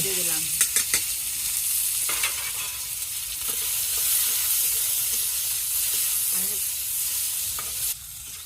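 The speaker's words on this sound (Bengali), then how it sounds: "তেল গরম হয়ে গেলে তারপর পেঁয়াজ দিয়ে দিব" Onions frying in hot oil for a boal fish curry give a loud, continuous close sizzle and hiss, with occasional scraping stirs and a brief drop near the end.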